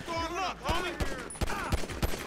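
Gunfire from the video game GTA 5, a handful of sharp separate shots spaced about half a second apart, with a voice talking over and between them.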